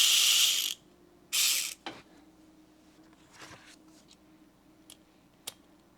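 A VESSEL 400ER cordless electric ratchet with a 3/8 adapter spins at 400 RPM in two short, loud bursts of rapid clicking, followed by quieter handling clicks and taps.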